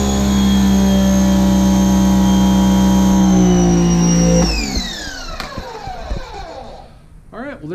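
A Giraffe Tools pressure washer runs with a loud steady motor whine and hum, then winds down as it automatically shuts off, its pitch sliding lower into rattling fade-out with faint clicks.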